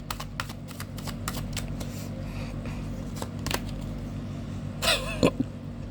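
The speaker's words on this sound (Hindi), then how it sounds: "last shuffle" Tarot cards being shuffled by hand, a rapid run of crisp riffling flicks and slaps, close and fairly quiet, ending in a brief louder burst of card clatter, with no talking.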